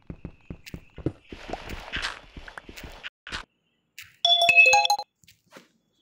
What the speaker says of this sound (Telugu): మా ఫ్రెండ్ అయితే ఫోన్ చేస్తున్నాడు